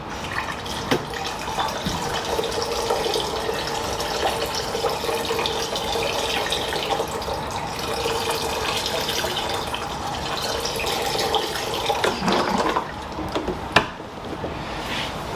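Water poured from a tap into a vessel for a turkey tail mushroom extraction, a steady running and filling splash lasting several seconds with a few sharp clinks near the end.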